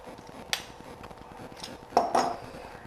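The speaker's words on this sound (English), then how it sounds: "Keep a good stir on it." Thickening enchilada sauce stirred in a pot, a spoon scraping and clinking against the metal in a few sharp knocks over low simmering noise.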